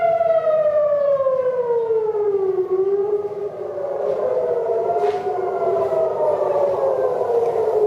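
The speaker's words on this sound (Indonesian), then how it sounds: "Sirine tanda serangan rudal Iran memasuki wilayah Israel kembali berbunyi." Missile attack warning siren wailing across Israel, a loud civil defense tone sliding slowly down and back up in a long continuous rise and fall, heard alone.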